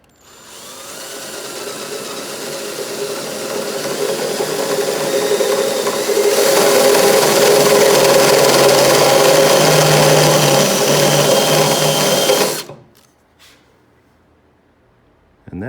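A power drill bores holes into the metal body of a Jeep, a steady loud whine running for about twelve seconds that rises partway through, then cuts off abruptly, leaving near silence.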